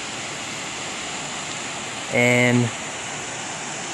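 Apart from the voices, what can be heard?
creek water flowing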